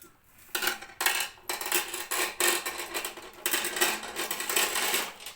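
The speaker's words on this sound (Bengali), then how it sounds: "পাথর অ্যাকোয়ারিয়ামের ভিতরে লাগবে, আর সৌন্দর্য বাড়ানোর জন্য পাথরগুলো দিতে হয়।" Decorative stones being placed into an aquarium, small handfuls dropped in bit by bit: a series of sharp clattering, clinking bursts with short pauses between them, close and fairly loud.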